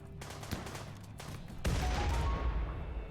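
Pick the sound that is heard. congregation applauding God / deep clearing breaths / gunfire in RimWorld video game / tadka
gunfire in RimWorld video game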